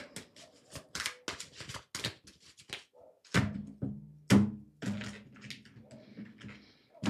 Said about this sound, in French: Ok, je tire le tarot.